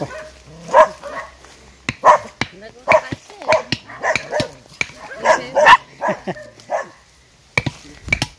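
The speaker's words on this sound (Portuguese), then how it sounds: "Cachorro aí para todo lado" Several dogs bark in short repeated bursts around a forest homestead, fairly close and loud, with faint voices in between.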